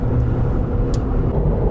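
A vehicle cruising at 65 mph while towing a Conqueror UEV 14 trailer, a steady loud low road and engine rumble that fills the whole stretch, with faint brief hiss peaks.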